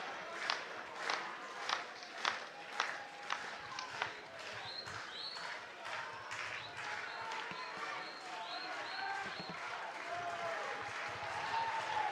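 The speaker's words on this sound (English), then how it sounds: "Fans clapping along here, getting loud" Baseball fans at an IBL Finals game clapping along in a steady rhythm, sharp claps pulsing over broad crowd noise that swells louder, with no talk over them.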